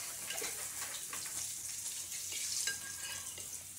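Fresh Coco Mama coconut milk pours into a hot cooking pan for ginataan, giving a steady close sizzle and wet hiss that runs the whole time with small stirring clinks and no talking.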